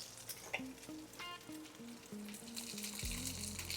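Sliced jalapeños hit a pan of seared taco meat and sizzle softly, a faint steady crackle and hiss with light stirring and some low background hum.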